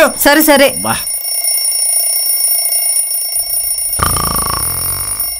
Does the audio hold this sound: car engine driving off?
no